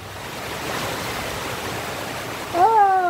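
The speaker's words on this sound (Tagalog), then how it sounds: "Malakas ang ulan at saka yung hangin" Heavy rain and gusting wind roar steadily on a boulevard in Molo, Iloilo City, and a voice breaks in briefly at the end.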